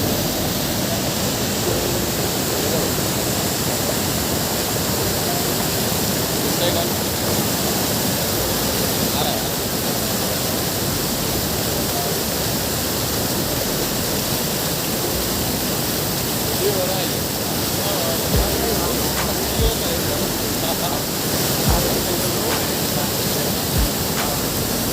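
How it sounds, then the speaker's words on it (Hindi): Narmada river water flowing at Bhedaghat, a broad unbroken roar of rushing current like a cascade, loud and steady throughout with no pauses, with faint occasional thumps beneath the constant wash. "माँ रेवा का पानी कल कल बहता निर्मल"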